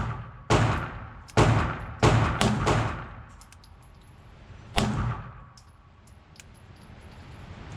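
Gunshots from an IWI Jericho 941 F pistol, six sharp, loud reports, five in quick irregular succession followed by one more after a pause, each with a short ringing decay and outdoor echo.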